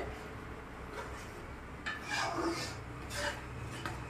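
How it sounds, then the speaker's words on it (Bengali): A spoon scrapes and stirs through green banana and curd curry in a cooking pot, with a few short rasping strokes close by over a steady low background hiss. "এভাবে একটু নেড়ে দিতে হবে, না হলে নিচে লেগে যাবে।"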